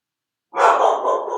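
A dog barks suddenly indoors after a moment of silence, one loud close bark run together with a short yelp, carrying over into a brief rough tail.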